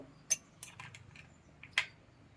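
A spoon clinks against a bowl while fish keema is mixed with chilli powder, salt, coriander powder, turmeric and fish masala, giving a few sharp, close metallic taps spaced irregularly over a quiet background.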